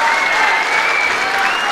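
An MMA crowd applauds at the close of a round, a dense, steady wash of clapping that stays loud and even throughout, with no voices standing out above it.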